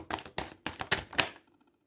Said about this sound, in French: Allez, je prends une deuxième carte.